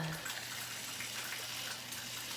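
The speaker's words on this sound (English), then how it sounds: "I'm going to get some water here." Water runs from a kitchen tap in a hot home kitchen in a steady, soft, even gush that continues unbroken, quiet and fairly close, with no talking.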